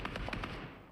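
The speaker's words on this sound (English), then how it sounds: "Making one shot after another at stragglers." A quick, faint burst of gunfire in PUBG Mobile: four or five rapid cracks in a tight cluster that fade into a low rumble.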